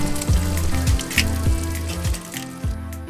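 Food sizzles on a simple two-burner camp stove, with a steady frying hiss and low, repeating swooping tones about every half second.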